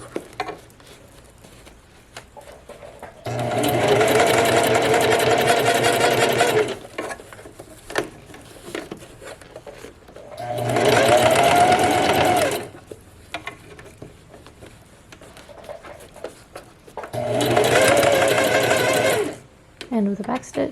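Three bursts of a sewing machine running quickly, back stitching along a pants waistband, each a few seconds of steady mechanical whirring, close and clear, with quiet handling noise in the pauses.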